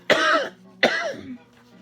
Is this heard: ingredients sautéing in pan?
no